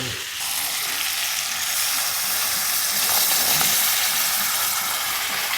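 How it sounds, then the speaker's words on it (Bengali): Pointed gourd sizzling and frying steadily in a pan as coconut milk goes in, a loud continuous hiss and crackle with light stirring, no voices. "এবার আমি নারকেল দুধটা যে বের করে রেখেছি ওটা দিয়ে দেবো"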